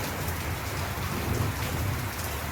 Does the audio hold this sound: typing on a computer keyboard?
no